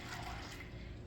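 About 400 millilitres of water pours from a measuring cup during a third-grade classroom lesson. It makes a steady, soft, continuous splashing wash with no voices.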